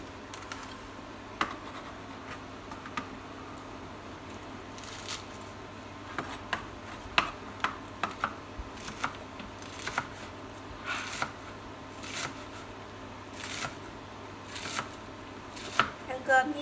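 A knife chops onions on a cutting board for Vietnamese bánh canh soup in a home kitchen, producing irregular crisp taps that come faster toward the end, over a low background hum.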